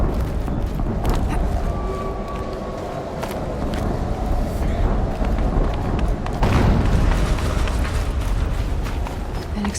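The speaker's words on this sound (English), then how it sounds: "An explosion." Explosion in the video game Horizon Zero Dawn set in snowy terrain, a loud sustained rumbling roar with a heavier burst partway through over continuous game noise.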